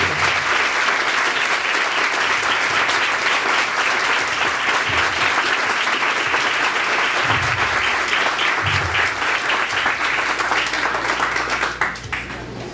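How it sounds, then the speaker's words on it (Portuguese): A lecture audience at a book launch breaks into steady, dense applause that fills the room for about twelve seconds, then begins to thin out at the very end. "Então eu preferia que a gente aplaudisse minha querida amiga."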